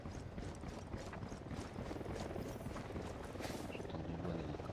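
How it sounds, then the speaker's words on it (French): A helicopter flies nearby in the video game Ghost Recon Wildlands, a steady rhythmic rotor chop filling the background at moderate level, with faint talk. "J'entends du bon hélico là."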